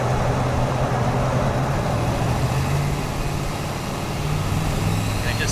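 Turbo LSX V8 in a 1989 Ford Mustang Foxbody, tuned and running on E85, idles with a steady, loud low rumble throughout, with no voices.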